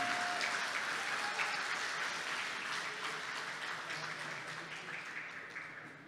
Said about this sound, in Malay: berikan tepukan gemuruh kepada semua pimpinan kita di hadapan ini